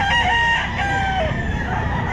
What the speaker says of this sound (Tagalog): ang ganda na manok